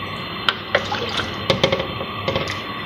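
Water starting to boil in a cooking pot for chicken yakhni pulao, seasoned with garam masala, gives scattered soft bubbling pops and small splashes over a steady low simmering hiss, close and fairly quiet, with no talking.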